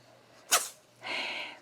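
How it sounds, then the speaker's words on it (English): A man sneezes once, a short sharp burst up close, followed by a breathy exhale; no talking. "He's over here sneezing."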